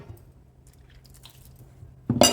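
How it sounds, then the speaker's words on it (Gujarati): Flour dough for mixed-flour maize vadas, made with oil, is kneaded by hand with water. A brief, close, wet squelch bursts out at the end after a quiet stretch of low hum. "આને બાંધી લેશું સતત પાણીથી"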